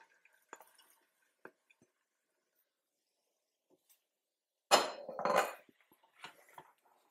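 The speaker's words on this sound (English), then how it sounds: "Now we're going to add our beans." Beans for red beans and rice being added into a cooking pot, a soft, quick pour and plop with a clattering burst in the middle, surrounded by small scattered clinks and near silence.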